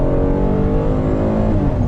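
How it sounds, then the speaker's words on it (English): A Kia Telluride or Subaru family SUV engine accelerates hard at full throttle, with a loud, steady, broadband roar that stays strong and continuous from start to finish with no talk. "I'm just going to floor it."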